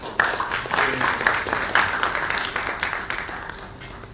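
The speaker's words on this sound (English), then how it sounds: "Good round of applause for her." Audience applause at a plant-growing event, given for a presenter: a bright burst of clapping from a modest crowd, many hands striking unevenly, holds for about four seconds and gradually thins out.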